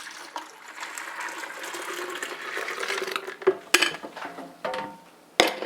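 Hot tea pours and splashes steadily into a container in a sink, followed by a few clinks and bumps of a pot being set down nearby.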